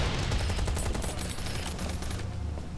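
Gunfire in Last Island of Survival, a dense, steady stream of rapid shots sustained at close range, with no voices heard.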